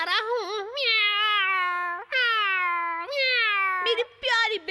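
Cartoon cats meowing in a Hindi-dubbed animated show, several long, drawn-out, sweet-toned meows in close succession, loud and near with short pauses between them and no talk.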